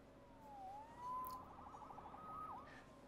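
A police siren wails in the Spider-Man video game, a faint, distant sweeping tone rising and falling a few times on its own.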